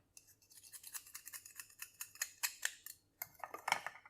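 A knife works at the shell of a live, cold-numbed scallop, giving a quiet series of close scraping and clicking taps in an irregular rhythm, with a sharper crack near the end.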